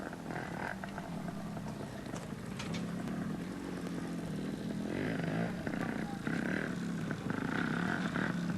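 A trials motorcycle slides through mud at a 1984 junior competition, its low engine drone running steadily beneath a commentator's continuous talk.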